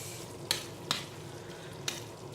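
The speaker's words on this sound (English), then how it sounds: "Then mix the mixture" Sauce mixture stirred in a pan, a steady low sizzle with three sharp scraping clinks of the spoon against the pan, close and clear, no talking.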